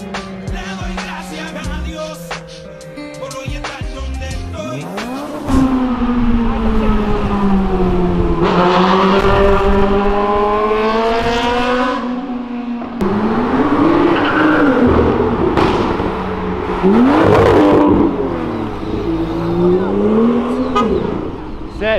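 Cars downshift and rev loudly on Avenida Europa, engines climbing and dropping through several gear changes with sharp blips and a roaring pass-by, close and continuous for about twenty seconds.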